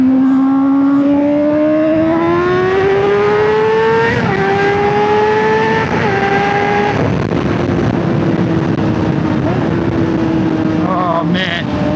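A 2024 Honda CBR600RR sport bike rides at sunset, its engine a loud, close, high-pitched whine that climbs steadily through rising revs, shifts up and drops, then settles into a sustained cruising drone with wind noise.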